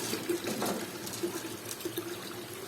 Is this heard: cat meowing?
no